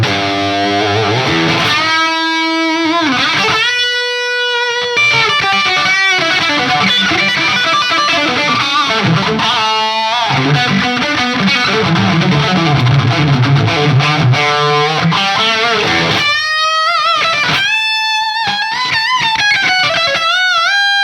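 A 1969 Marshall 50W Plexi 1987T amplifier, restored in EVH style, roars with every control at full, including bass, and no variac. Loud, sustained distorted electric guitar chords and ringing notes with brief pauses fill the whole stretch.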